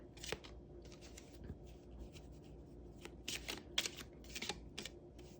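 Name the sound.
shuffling tarot cards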